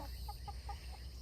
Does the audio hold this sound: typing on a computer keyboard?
no